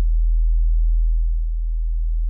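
A pure analog synth sine wave modulated by the Brute LFO iPhone app: a steady, low, continuous hum with a gentle, slow swell in loudness and no voices.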